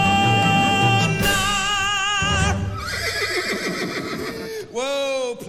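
A horse neigh effect played during a stage musical performance, a bright whinny rising over orchestral music and singing voices, loud and close.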